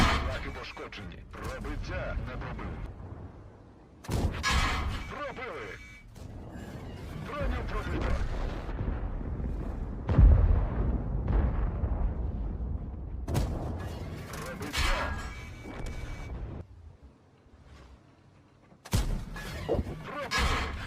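Tank cannon shots and shell hits from World of Tanks with an AMX Foch B tank destroyer, several heavy booming blasts with crashing impacts spaced through the clip, mixed with game effects and someone talking over them.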